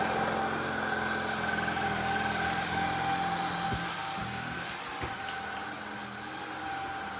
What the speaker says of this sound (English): He's gone off and vacuuming the other part of the room.